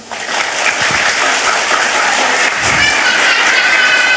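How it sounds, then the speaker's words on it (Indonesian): An audience of parents at a TPQ Al Hidayah Quran-study gathering in Temanggung claps in a loud, sustained round of applause, with a whistle or cheer rising toward the end. "Tepuk tangan sik"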